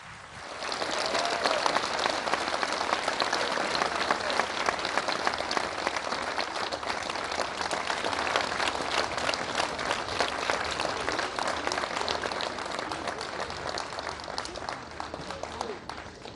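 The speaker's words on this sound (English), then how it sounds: "A round of applause" Sustained audience applause fills the room after a speech at the launch of a community centre, dense steady clapping with crowd noise holding loud and even throughout with no clear talk over it.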